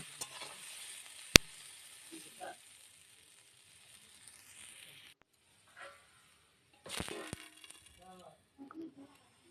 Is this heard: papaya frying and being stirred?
yes